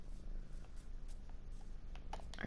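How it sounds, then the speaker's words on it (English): Cat purring in Minecraft, a soft, low continuous rumble close by, faint and alone with a few light clicks. "There's a kitty."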